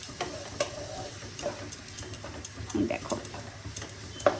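Mutton with whole garam masala sautéing in a pan, a soft sizzle under repeated scraping and clinking stir strokes, close by, with a voice briefly speaking over it.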